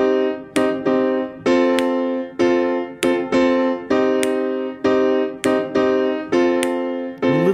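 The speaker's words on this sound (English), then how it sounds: "imagine me clicking to this on the first and third beat of the bar as if I were playing a Mozart piece." A Mozart-style piano piece plays in even, ringing notes while sharp clicks land on the first and third beats of each bar, giving a stiff, regular pulse.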